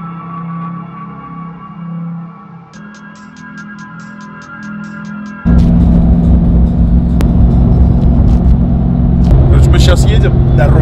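A RAM TRX pickup truck drives over a badly broken road, first as a muffled engine hum under a voice, then as a loud steady rumble and jolting rattles from the rough surface.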